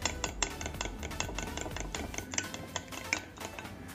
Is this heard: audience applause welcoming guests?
no